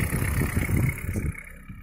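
A Daewoo Nexia with an 8-valve engine runs close up with a persistent knock, a steady rough mechanical rumble that eases slightly toward the end, with no talking.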